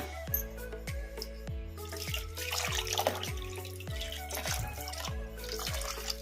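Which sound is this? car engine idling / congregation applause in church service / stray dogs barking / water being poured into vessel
water being poured into vessel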